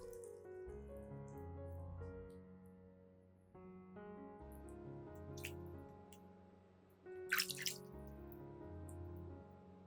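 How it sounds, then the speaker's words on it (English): Clean water rinsing an orchid plant after its rotten roots were cut away, a quiet running trickle with a few splashy drips close by. "After cutting away all the damaged and rotten roots, I'll rinse the entire plant with clean water."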